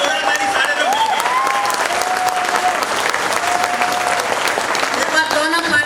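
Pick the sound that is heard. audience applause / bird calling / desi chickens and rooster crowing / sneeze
audience applause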